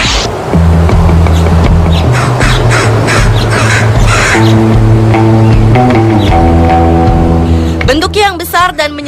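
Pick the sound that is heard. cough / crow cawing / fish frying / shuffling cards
crow cawing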